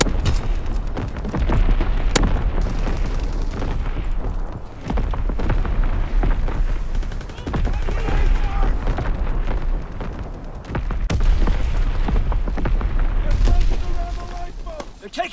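Artillery strike explosions in the World War II shooter Call of Duty: WWII, a dense barrage of booms and gunfire rumbling continuously across the scene, loud and layered with battle noise.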